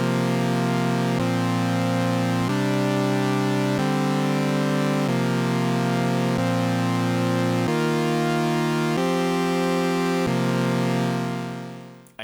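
A synth plays a continuous loop of sustained chords, changing roughly every second and a quarter. The rich chords are steady, loud and even, with no rhythmic variation, and end in a short fade.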